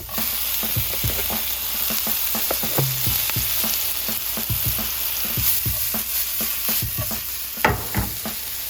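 Garlic and onion sauté in olive oil in a pan with a steady, close sizzle and frequent scraping clicks as they are stirred, continuous for several seconds with no voices.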